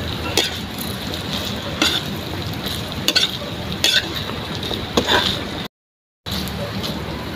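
Flaked fish (kinunot) with onion stir-fried in a pan, a steady broadband sizzle with repeated sharp scraping strokes of a utensil against the pan at a loose rhythm, close and moderately loud, briefly cut to silence near the end.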